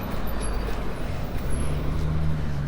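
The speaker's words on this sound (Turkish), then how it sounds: "yol kenarında olduğum için birazcık araba sesi olabilir." Steady roadside traffic rumble with passing vehicles and a low engine hum, continuous and moderately loud.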